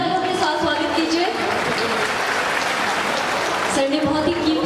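Sustained applause from a crowd welcoming a guest at a ceremony, a dense steady clatter of clapping with faint voices and tones mixed in.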